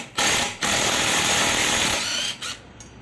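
A power tool tightens the last bolt on a Bajaj Dominar motorcycle brake disc with one loud, close, continuous whirring burst that ends in a brief second spurt.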